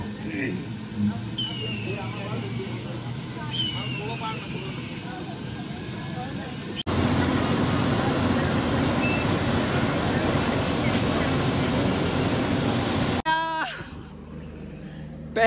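A helicopter taking off from a helipad, a steady loud engine and rotor roar that rises abruptly partway through and then cuts away, with people talking over the noise.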